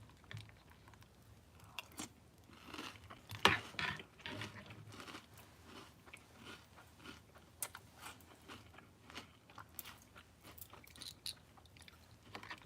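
Crunchy breakfast cereal is chewed close up, with irregular soft crunches and bites that come and go over a quiet background, one sharper crunch standing out, and no talking.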